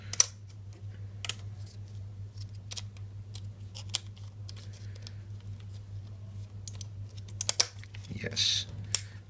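Sharp mechanical clicks from a Canon EOS 1200D DSLR shutter firing a few test shots, sounding as scattered isolated snaps over a low steady hum, with a brief rustle near the end.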